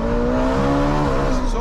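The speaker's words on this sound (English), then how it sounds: "this Valvetronic exhaust is doing the job as we go into the tunnel" A Ferrari 458 with a Valvetronic exhaust drones loudly up close as it enters a tunnel, a steady, rich engine note that rises gently in pitch.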